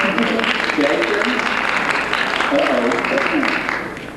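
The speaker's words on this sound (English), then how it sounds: "That's right, applause." Audience applause fills the hall at the Miss MSU pageant in spring 1991, a loud, sustained clapping with voices heard over it, tapering off toward the end.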